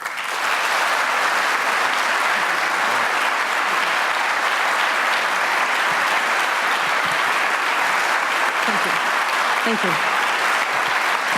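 Sustained audience applause in a town hall lecture forum welcomes a speaker, a dense steady clapping that fills the room throughout, with a brief thank-you spoken near the end.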